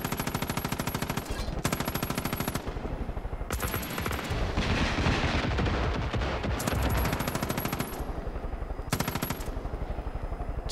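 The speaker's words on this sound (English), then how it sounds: "Getting shot at." Sustained automatic gunfire in Far Cry 5 rattles in long rapid bursts, loud and close, broken by short pauses, with a dense noisy stretch in the middle.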